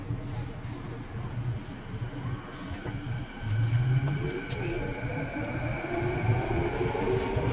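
A Vancouver SkyTrain heading toward YVR-Airport rumbles and hums along the track, its motor whine rising in pitch as it accelerates, with a continuous rolling rattle heard from on board.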